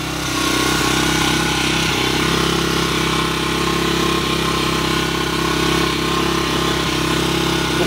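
A Skygo King 150cc motorcycle engine runs steadily at about 4,000 RPM during carburetor tuning, giving a continuous, loud, even hum that stays unbroken for the whole stretch.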